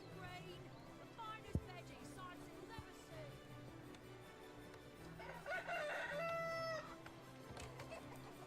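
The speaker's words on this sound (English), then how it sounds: "there's lots of chickens around here, including another rooster" A rooster crows in a rising, drawn-out call amid faint background clucking and chatter from chickens in the video game Divinity: Original Sin, with a brief thump earlier.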